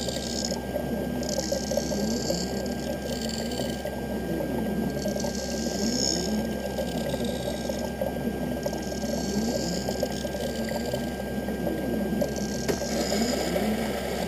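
A lens edging machine cutting a polycarbonate eyeglass lens dry, giving a steady mechanical grinding whir with a rhythmic pulsing hum and faint clicking that runs continuously at moderate volume.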